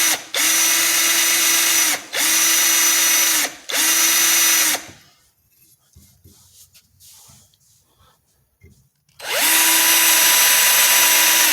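A power drill whirs in three short bursts into a taped Winchester Model 120 12-gauge shotgun barrel, stops for several seconds of near-quiet, then starts again with a long steady whine.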